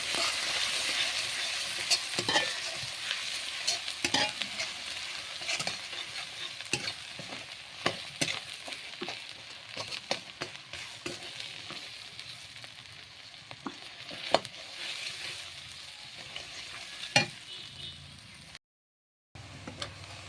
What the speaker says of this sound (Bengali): পেঁয়াজ রসুন লাল লাল করে ভেজে নিয়েছি।